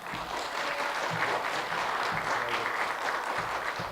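A church congregation at a revival meeting claps loudly and continuously to welcome a pastor, a dense, even wash of applause filling the room.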